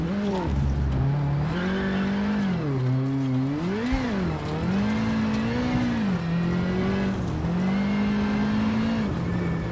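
A rally car in the WRC 7 video game drives hard, its engine drone rising and falling with gear changes and revs, loud and continuous, with tire noise mixed under the engine throughout.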